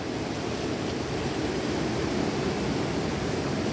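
River water rushing across a flooded school ground after the Mundakai Chooralmala landslide in Kerala, a steady, loud, broadband roar of flowing water close by, with no voices over it.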